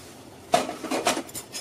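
Dry fruits and gond stirred in a kadhai with the gas off, a few soft metallic scrapes and clinks of a spoon against the pan, quiet and close.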